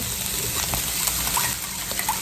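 Sauce pours over pepper steak in a steady, close, wet gushing stream with brief splashy accents, heard alone without talking.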